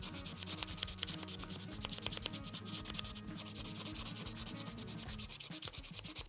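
Coating is scrubbed off a metal rod before brazing. A steady, close rasping rub repeats in quick strokes throughout, with no talk.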